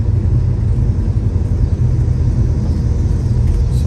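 A 1957 Chevrolet Bel Air cruising straight down the road, a loud, steady low rumble of engine and tire noise that holds constant throughout from inside the car.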